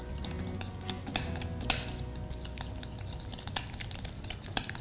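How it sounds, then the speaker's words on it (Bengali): A spoon works through a potato mixture with yogurt, green chili and lime juice for Bengali steamed potatoes in mustard paste, giving irregular close scrapes and clinks against the bowl, with one sharper knock among them. "এটা আমি ভালো করে মিক্স করে নেব।"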